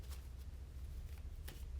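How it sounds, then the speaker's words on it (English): Tarot deck being shuffled by hand at close range: faint, quiet riffling with a few brighter flicks of cards against a low background hum. "I'm just going to shuffle a couple more times."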